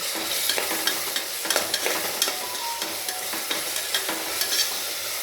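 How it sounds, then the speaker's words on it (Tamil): Onions sauté with salt in a pan for mutton biryani, with a constant close sizzle and frequent scraping and stirring strokes of a ladle against the pan. "நம்ம எப்போவுமே வெங்காயம் வணங்கும் போது சால்ட் போட்டோம்னா கொஞ்சம் நல்லா வணங்கும்"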